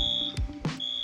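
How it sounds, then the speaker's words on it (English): An electronic fire alarm in the Roblox roleplay game ERLC sounds as a steady high beeping tone, cut briefly by a couple of short noisy bursts before the tone resumes. "Fifth fire alarm of the day."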